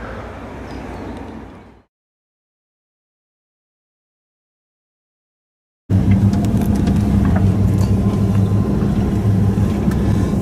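A 2015 Lamborghini Huracan with a 610 bhp engine reverses in a tight space, its engine giving a steady, close, low rumble that cuts out briefly into silence and then returns louder and sustained.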